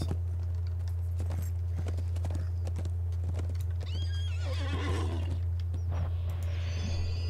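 Horse hooves clop in a video game against a constant low electrical hum, with a loud neigh rising near the end.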